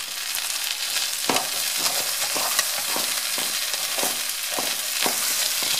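A spoon scrapes and clacks rhythmically in a pan as chicken risotto with food colouring and pepper is stirred, over a steady sizzle of frying.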